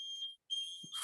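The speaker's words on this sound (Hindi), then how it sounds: "फायर अलार्म्स चेक हो रहे हैं।" A fire alarm sounds during a fire safety check, giving a loud, steady high-pitched electronic tone that cuts out briefly and then resumes, with no talking over it.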